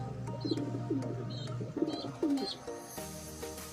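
Pigeons kept in a loft coo nearby in soft, repeated throaty phrases, about four in quick succession, with faint chirps and a low background hum.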